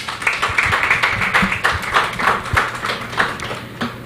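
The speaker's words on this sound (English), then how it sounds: "So please give her a round of applause." Audience clapping at a live girls-in-ICT panel event, a steady, moderately loud patter of hands filling the whole moment without speech over it.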